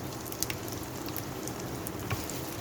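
Chicken mayo box patties fry in hot oil, giving a steady close crackling sizzle throughout with a few brighter pops standing out; no one talks.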